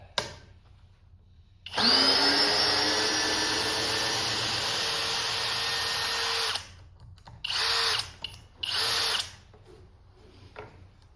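A Flex 1131 half-inch compact cordless drill whines loudly and steadily for several seconds while boring, then stops and restarts in a few short bursts with pauses between, close up and with no talking.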